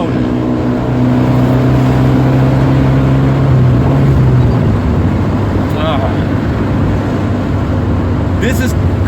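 A 1979 Alfa Romeo Alfetta 2.0 engine drones loudly and steadily from inside the car while driving, with one tone shift midway and someone talking over it.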